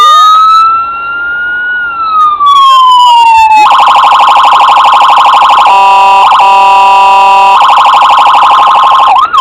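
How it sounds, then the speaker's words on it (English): Electronic police siren on a custom Chicago PD Interceptor Utility model vehicle, loud and close, gliding through a wail and then switching among steady, rapidly warbling tones with no voices over it. "That's for your siren. First press of this will take it into a automatic, where it cycles through the sound."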